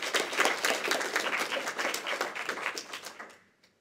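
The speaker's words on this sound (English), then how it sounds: "clap them in" Audience applause at a student comedy society improv show, a dense burst of clapping from a crowd that fills the room and then fades out toward the end.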